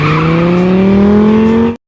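A car screeching with tyres skidding in a film scene, a loud sustained squeal with a rising pitch under engine roar, cutting off abruptly.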